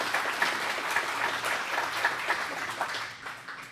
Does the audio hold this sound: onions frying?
no